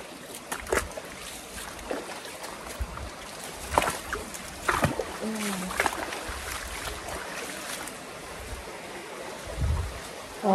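Water flowing along a small channel outdoors, a steady close rushing trickle with occasional splashy bursts and a few faint background voices.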